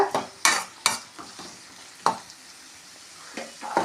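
Curry leaves fried and stirred in a pan for tomato kulambu, with sharp sizzling bursts and spoon scrapes coming at irregular intervals over a steady low frying hiss, close by and with no voices.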